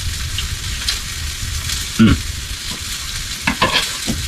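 Honey butter sauce with Red Hot being stirred in a hot pan, a loud continuous sizzle with scraping strokes of the spoon and a few sharper clinks against the pan.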